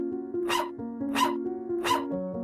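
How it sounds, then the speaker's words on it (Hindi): A cartoon puppy barks three times, sharp yapping barks spaced evenly, over a sustained musical tone in the background. "ये छोटे क्यों भौंक रहा है?"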